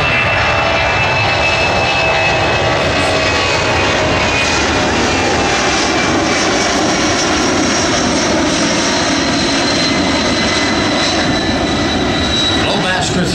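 A Boeing C-17 Globemaster III military transport roars steadily overhead at an air show, its loud engine drone continuous throughout with an announcer's voice faintly underneath.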